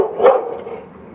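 A single dog bark rings out sharp and close, then fades into a short tail of room noise.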